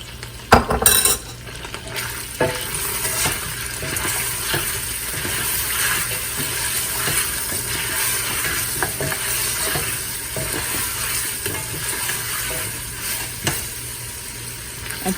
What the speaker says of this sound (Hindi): ये जिंजर गार्लिक डाल के मैं इसको थोड़ी देर पकाऊंगी